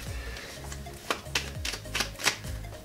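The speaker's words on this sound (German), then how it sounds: "dann wir mal mischen" Schafkopf playing cards shuffled by hand at close range, a few quick riffling and snapping bursts over a low background hum.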